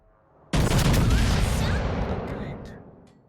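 A battleship's main guns fire a heavy salvo in the World of Warships: Legends naval game, one sudden loud booming blast that rolls and rumbles away over about three seconds.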